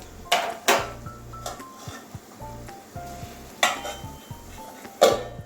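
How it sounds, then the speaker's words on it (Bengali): Metal clatter of a lid being set on a pot of red amaranth greens with potato and eggplant, a few sharp knocks and clanks, close and fairly quiet, over a soft background hum. "এবারে ডাটাগুলো সিদ্ধ হবে এবারে ঢাকা দিয়ে দেবো"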